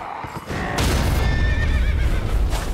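A horse in the video game Elden Ring gives a loud close neigh, with heavy hoof thuds and rumbling beneath it, lasting a few seconds without talk.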